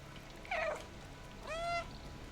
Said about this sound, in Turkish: Bir miyavladım